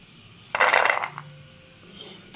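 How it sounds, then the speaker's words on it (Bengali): Crispy fried layered pastry crunching with a sharp burst of brittle crackles, close and fairly loud, fading quickly into quiet. "শব্দটা শুনেই বুঝতে পারছেন যে কত মুচমুচে হয়েছে"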